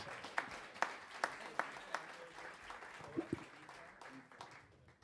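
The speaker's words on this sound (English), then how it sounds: "Give him a big Des Moines round of applause." Audience applause for a singer at a Christmas jazz and cabaret show in Des Moines, with scattered individual claps from a small crowd and a few louder sharp claps, fading quietly toward the end.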